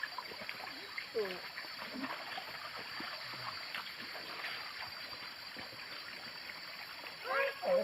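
Water splashes and trickles as people cross a river in a forest, a steady low wash with occasional sharper splashes, while voices speak over it.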